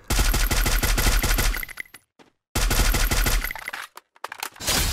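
Rapid automatic gunfire in Garena Free Fire rattles out in two long bursts, separated by a sudden silence, then a few scattered shots trail off at the end, with no voices.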